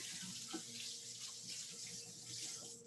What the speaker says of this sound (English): let me put this out of the way and rinse my hands again